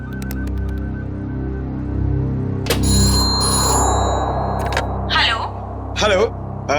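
During an outgoing call, a phone ring tone sounds over a low rumbling background, followed by a few sharp electronic beeps, and a voice speaks near the end.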